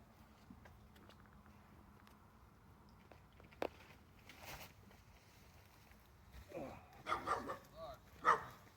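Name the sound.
puppy barking and moving around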